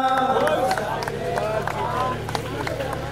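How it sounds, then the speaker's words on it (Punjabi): A crowd applauding at a Hindu devotional gathering for a birthday celebration in Jalandhar, steady loud clapping from many hands mixed with crowd noise and a voice over the top. "ਇੱਕ ਦਫਾ ਫੇਰ ਜ਼ੋਰਦਾਰ ਤਾੜੀਆਂ"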